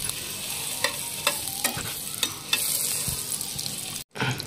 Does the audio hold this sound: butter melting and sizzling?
yes